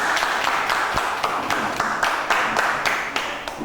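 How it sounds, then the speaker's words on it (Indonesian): Classroom applause after a student group's presentation, a steady wash of many hands clapping with overlapping claps throughout. "Oke, tepuk tangan."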